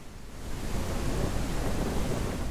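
Thunderstorm in the MX vs ATV Legends off-road racing game, a dense, steady roar of heavy rain and rumbling thunder that fills the whole stretch at high loudness, with no voices.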